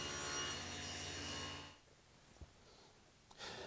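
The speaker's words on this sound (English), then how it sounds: "run the jig past the blade to trim off the overhanging edge" A table saw trims the overhanging edge of a panel held in a circle-cutting jig. The blade cut runs loud and steady, then drops away into quiet, followed by a couple of faint knocks near the end.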